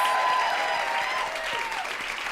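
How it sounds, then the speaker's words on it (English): A live podcast audience in a hall gives a sustained round of dense clapping that stays steady for a couple of seconds and tapers slightly, while a faint tone lingers underneath. "I just want to give one more round of applause to Kritika"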